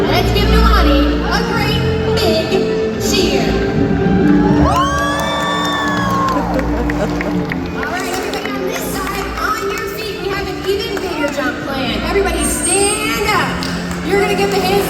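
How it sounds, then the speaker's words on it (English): An audience cheering at the SeaWorld Orlando Orca Encounter evening show, a loud crowd roar with whoops and children shouting over music and an announcer's amplified voice. "let's give Milani a great big cheer"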